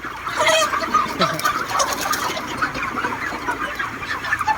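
Chickens cluck and chatter steadily nearby on a poultry farm in Israel, several birds overlapping in a busy coop with a constant background din.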